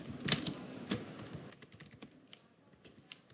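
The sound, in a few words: typing a name on a computer keyboard in Microsoft Word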